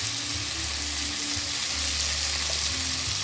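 Fish curry with taro sizzles steadily in a pan as chili powder is stirred in, a close, continuous frying hiss with low scraping stir sounds and no talk.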